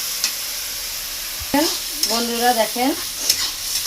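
Chicken kasha with tomato sizzles loudly in a pan as it is stirred, a close, continuous frying hiss with spoon scrapes, while someone talks over it.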